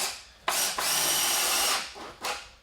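A power drill drives screws into a 2x4 wood stud while framing a basement wall, with two close, loud whirring bursts, a long one of about a second and a short one after a pause.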